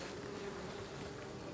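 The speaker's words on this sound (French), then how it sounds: "on voit les abeilles dedans" Honeybees inside a hive give a steady, even buzzing drone that holds without a break, fairly quiet and with no voices over it.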